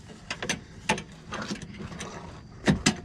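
A 10mm wrench works a self-locking nut behind a Mustang GT350R rear diffuser support, giving a series of sharp ratcheting clicks at irregular intervals, close and moderately loud.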